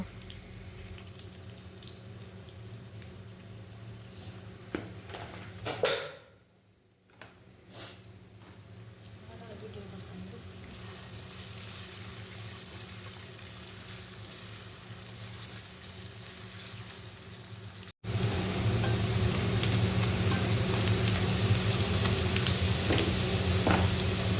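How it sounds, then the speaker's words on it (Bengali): Onions frying in oil in a wok give a steady close hiss, with a short pause midway, then turn noticeably louder and brighter as the sizzle intensifies toward the end. "কড়াইয়ের মধ্যে পেঁয়াজ দিয়ে দিচ্ছি, আর এখন এটাকে ভালো করে ভেজে নিব"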